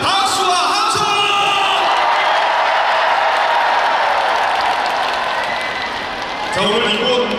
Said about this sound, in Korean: 다 같이 박수와 함성!